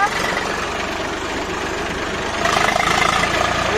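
A tractor engine idles close by with a steady low chugging rumble that grows slightly louder toward the end.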